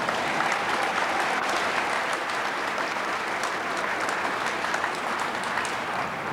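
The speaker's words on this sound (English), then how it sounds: "That woke up the crowd." Sustained applause from a crowd at an indoor bowls national final in New Zealand, a steady dense clatter of clapping filling the room without a break.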